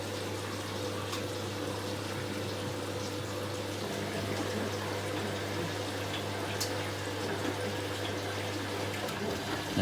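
Steady rushing water flows continuously with a low mechanical hum underneath as a Hoover A3060 and a Miele W562 washing machine fill with water, with faint clicks now and then.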